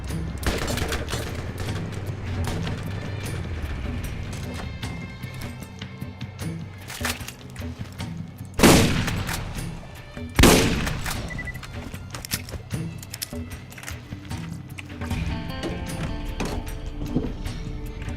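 Gunfire in the Borderlands video game from a Dahl weapon, a steady spatter of shots with two loud, sharp blasts standing out midway, with no talk over it.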